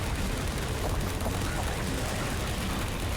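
Automated turrets in the video game Entropy Zero 2 fire at antlions in a dense, unbroken wash of rapid gunfire that stays loud and steady throughout.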